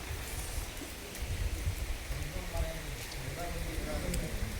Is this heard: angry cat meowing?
no